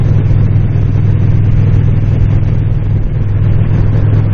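A 2007 Moto Guzzi Breva motorcycle cruises at a steady 2500 RPM on a desert road, its low engine drone loud and continuous with a constant rumble and no change in pitch.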